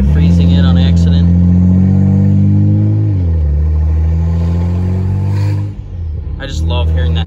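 A BMW 335i with upgraded turbos, open downpipes and open charge pipe drones loudly and close by, its tone dropping partway through before a brief sharp burst near the end.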